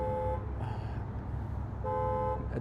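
A car horn sounds outside in two clear sustained toots, one at the start and one near the end, over steady low traffic rumble.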